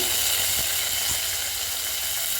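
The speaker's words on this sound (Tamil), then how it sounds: "வெந்தயம் நல்லா பொரிஞ்சிட்டு அதுக்கு பிறகு இந்த வெங்காயத்தை போடணும்" Onions and curry leaves go into oil with fried fenugreek for a Kerala fish curry, producing a loud, steady, close hiss with faint ticks and no voices.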